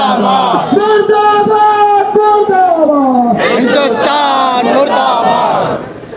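A protest crowd in Hyderabad, Sindh, Pakistan chants slogans against India and America. Many voices shout loud, close, drawn-out calls in unison, rising and falling in long swells that repeat without pause.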